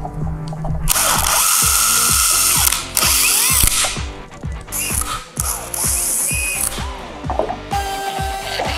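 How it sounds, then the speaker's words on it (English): A Dremel rotary tool cuts a connector hole in a Ford F-150 plastic bumper cover, a loud continuous whining grind broken by rhythmic clicks and short pauses as the bit bites in and lifts off. "use my Dremel tool to cut out that connector hole"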